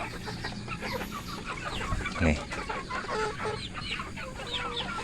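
About 100 chickens cluck and chatter continuously nearby in a coop, many birds overlapping, with a brief low thump and a faint voice speaking a single word.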